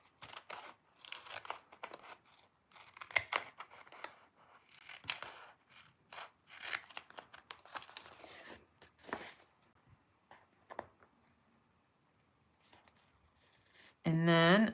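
Card paper is trimmed for a handmade winter card, with a series of quick, close scissor snips and light paper rustles, then a quiet pause and a brief loud burst of noise at the end.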